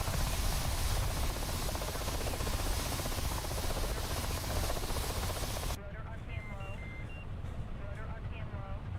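Twin engines of an AH-64D Apache Longbow helicopter in the DCS flight simulator, a loud dense turbine roar with rotor chop that holds steady, then shifts to a softer rushing tone under faint beeping cues.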